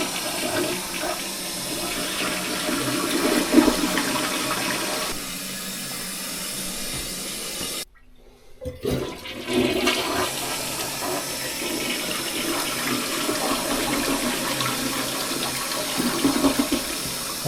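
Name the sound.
toilet flushing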